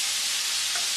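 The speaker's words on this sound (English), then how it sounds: "it also helps cook the sausage because it's basically deep frying the sausage" Sausage deep frying in fat in a pan gives a steady, loud sizzle that runs unbroken and close for the whole stretch, with no voices.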